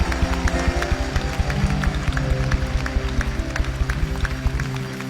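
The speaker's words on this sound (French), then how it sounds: "Applaudissez pour le Seigneur." Church congregation clapping in praise over steady music, rhythmic claps in time with a pulsing beat, fairly close and continuous throughout.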